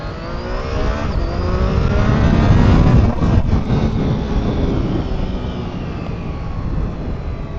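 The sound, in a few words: Triumph Tiger Sport 660 three-cylinder motorcycle accelerating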